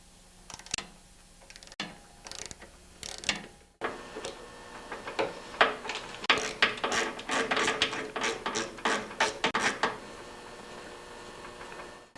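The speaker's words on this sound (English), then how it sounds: "So I'm going to insert the little Torx socket in there," A ratchet turns a small Torx socket to loosen carburetor bolts on a Briggs & Stratton snowblower engine. A few separate clicks come first, then a steady, close run of rapid ratcheting ticks, with no voice.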